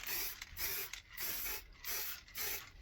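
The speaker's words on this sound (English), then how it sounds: "we sprayed on a bit of varnish on there" An aerosol can sprays varnish onto resin-inlaid plywood in four or five short hissing bursts, each with the rattle and click of the nozzle, close up and with quiet gaps between.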